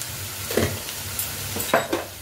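Garlic and onion frying lightly in a pan with a little salt, a soft steady sizzle broken by a few louder stirring scrapes, close by with no talking.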